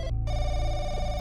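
In the horror game Firework, a public phone in a phone market rings with a steady, continuous electronic ring under a low ambient hum, briefly cutting out near the start.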